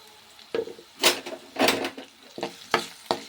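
A spoon scrapes and clanks against a pan in bursts while onions fry with salt and turmeric, the sizzle soft underneath and the stirring strokes close and irregular.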